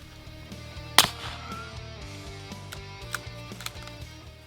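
A single sharp crack from a suppressed .22 rifle shot at a wild hog in a trap, close and brief, followed by faint clicks and a low steady hum.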